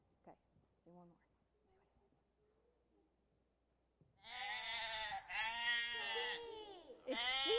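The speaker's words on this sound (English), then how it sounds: "Sheep. It's sheep." Recorded sheep bleating played back during an animal sound guessing game at a church worship service, loud wavering bleats repeated after a quiet start with faint voices.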